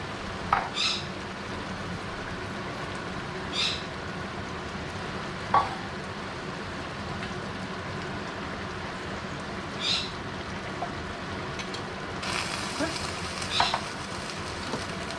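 Canned mushroom soup being stirred into shepherd's pie filling in a pan: a faint, steady sizzle broken by a few sharp spoon scrapes spaced several seconds apart.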